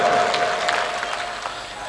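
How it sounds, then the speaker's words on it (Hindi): An audience claps at a mushaira, an Urdu poetry recital, with a dense, steady wash of applause that fills the room and eases off slightly toward the end. "बहुत शानदार आरिफ भाई के लिए मैं तालियां बजा दी सारे दोस्त मिलकर"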